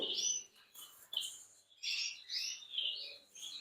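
Newly hatched canary chicks, less than an hour old, give high, thin chirps in quick bursts, close and fairly loud, with short pauses between calls and no talking.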